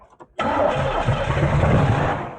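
An old Camaro barn-find engine, sitting for 32 years, catches after cranking and bursts into a loud, rough running roar up close that holds steady for a couple of seconds.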